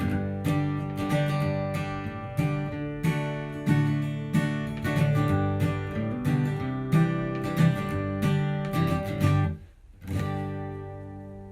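Acoustic guitar strums a steady bluegrass rhythm pattern of chords with regular accented strokes, clear and close, ending with a brief pause and a final strum.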